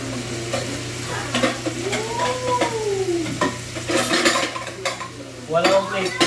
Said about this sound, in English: Buhos mo yung cornstarch dito, tsaka mo haluin unti-unti.